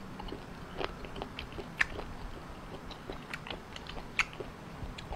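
Chewing raw squid and bitter-gourd shellfish sashimi, close and quiet: soft wet mastication with occasional crisp crunchy bites spread over a few seconds, with no talk.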